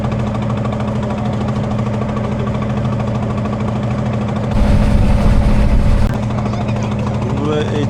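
A trawler's engine thrums close and loud in a steady low drone on a haor wetland, swelling briefly louder midway, with a voice talking over it.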